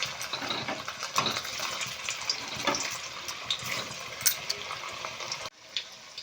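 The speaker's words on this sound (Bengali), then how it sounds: "পেঁয়াজ ভাজা তেলেই আমি আলুগুলো লাল লাল করে ভেজে নেব" Potatoes fry in hot onion-flavoured oil left from frying onions for chicken biryani, a continuous close sizzle with crackling spits and stirring clinks, then the sizzle abruptly drops to a quieter level near the end.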